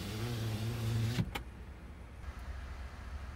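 Power sliding rear window on a Chevrolet Silverado 1500 High Country, a soft electric motor whine running for about a second, ending in a small clunk, then quiet cabin room tone.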